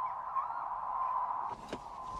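A recorded distressed bird call, broadcast to scare a flock, gives a sustained honking wail that holds steady at moderate distance with a brief harsher burst near the end.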